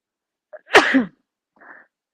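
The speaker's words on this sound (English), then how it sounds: "Oh, I keep on sneezing." A single loud, close sneeze with a short intake of breath before it and a faint exhale afterward, otherwise silent.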